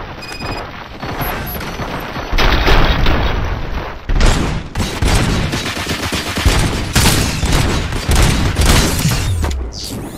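Heavy gunfire in Robocop: Rogue City, a sustained loud fusillade of rapid shots and booming impacts with crashing debris, near and intense, swelling in waves over ten seconds.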